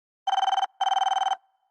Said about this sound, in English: Mr. Big Nose rang on our 3D video phone to remind us that our next book was due